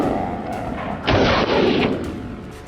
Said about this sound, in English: I fired rapidly, bullets chasing their frantic path.